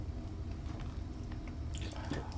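A crunchy, spicy coconut snack from Frito-Lay is chewed up close, giving soft, steady crunching and squishy bites over a low background hum, with no talking.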